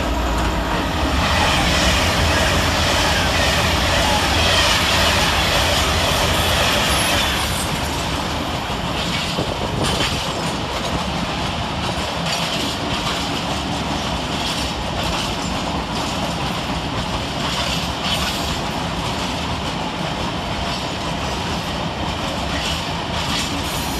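A Class 66 freight locomotive hauling a Corby to Margam freight and a Class 390 Pendolino on the fast line pass through Nuneaton station, a loud rushing roar with rail clatter that eases slightly midway and continues steadily.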